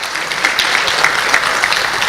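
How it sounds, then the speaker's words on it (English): Conference audience applauding steadily at an education event in Kenya, dense continuous clapping filling the room with a few sharper claps standing out, no voices on top. "Continue clapping until I tell you to stop"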